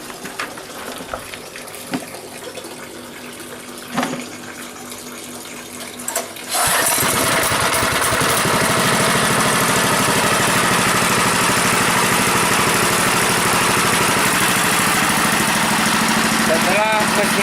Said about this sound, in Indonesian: Langkah selanjutnya baru kita hidupkan mesin.